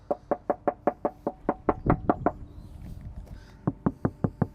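A hand knocks on the bare, non-soundproofed door panel of a VW Up GTI, giving about a dozen close, hollow, evenly spaced raps, a brief rustling pause, then five more knocks.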